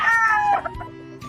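A rooster, a bird the owner bought for about 5,000 and roughly three years old, crows loudly and close by in one drawn-out call that trails off at the end, heard alone without talk.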